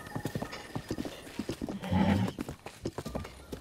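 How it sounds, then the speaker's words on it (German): Horse in Zelda: Breath of the Wild, a run of clip-clopping hooves with a loud whinny in the middle, mixed with game sounds and a voice talking over it. "Pferd."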